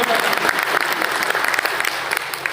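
Sustained audience applause at an RCM achievers' stage event in Chandauli, a dense steady wash of many hands clapping throughout.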